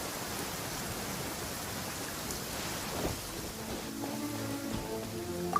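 Steady rain pours down in Genshin Impact, a dense broadband hiss with a soft rumble beneath, joined near the end by faint tonal chimes of game music.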